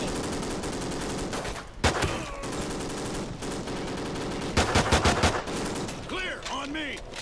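Gunfire from a firefight in Call of Duty: Ghosts, with rapid automatic bursts and sharp shots over a dense battle soundscape of explosions and effects, loud and near throughout.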